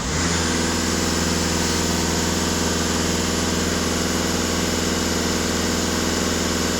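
Skoda Octavia A7 engine, with a diesel particulate filter, held at raised revs: a loud, steady drone with a constant hum and no change in pitch for the whole stretch, with no voices.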